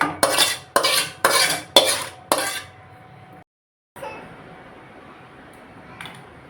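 Cooked fish being stirred in a pan and lifted out, with a run of five sharp, loud scraping clatters of utensil on metal, then a brief silence and a quieter clink with low background hiss.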